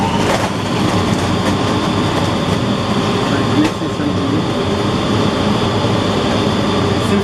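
A TruCUT CO2 laser cutting machine runs together with its exhaust fan, producing a steady droning mechanical whir with a faint tonal hum, while someone talks over it.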